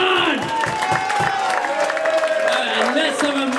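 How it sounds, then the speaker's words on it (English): Audience at a Burns Night country soul concert clapping and cheering after a singalong, with a voice and lingering musical tones running over the crowd noise throughout. "Give yourself a big round of applause."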